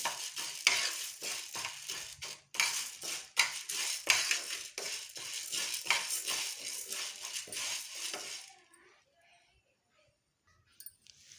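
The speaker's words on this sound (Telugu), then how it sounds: "ఇప్పుడు మనం మినపగుళ్ళు వేసుకుందాం కొంచెం వేయించుకోవాలి" Urad dal dry-roasting in a hot pan with no ghee, stirred with a spoon. Rapid scraping and rattling strokes sound close and loud for about eight seconds, then stop and leave near silence.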